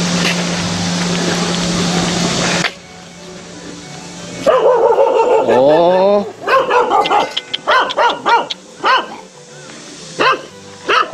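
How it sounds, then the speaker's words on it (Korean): Several dogs bark in sharp, irregular bursts near a lake on rural land in Seongju County, loud and close, following a stretch of someone speaking over background noise. "강아지들이 짖는 관계로 다소 소음은 있습니다."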